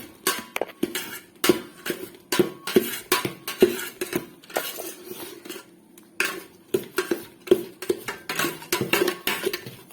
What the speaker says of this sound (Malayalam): തരി കാണല്ലേ, തരിയില്ലാതെ നമുക്കിത് ഇളക്കി കൊണ്ടുവരാം.